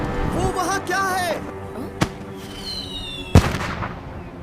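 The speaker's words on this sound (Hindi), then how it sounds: "अब पटाखों से खेलना बंद करोगे? मुझे इनसे डर लगता है।" Two sharp firecracker bangs in a kids' cartoon go off a second or so apart, near and loud, among brief voices and background noise.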